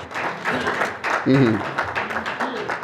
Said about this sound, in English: Can we clap again for the Ichie?